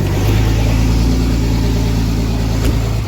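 A truck engine runs loud and close, idling with a steady low rumble and slight rising rev throughout, no voices; its exhaust manifold is nearly falling off.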